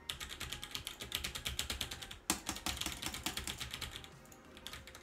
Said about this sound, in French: avec un clavier mécanique juste à côté, on va voir si on l'entend